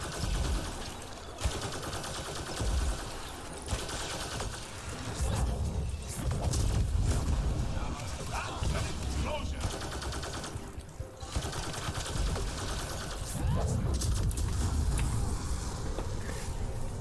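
Revenant SMG gunfire in a video game, rapid bursts of automatic shots rattling on and off at moderate loudness over a dense game soundscape.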